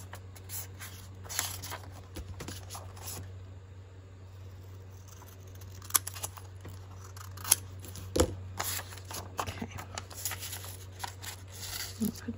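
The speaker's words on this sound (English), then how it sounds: "So I'm going to cut this in half." Large scissors snip through paper for a junk-journal tag envelope, with scattered crisp cuts and rustling heard close up over a steady low hum, without talk.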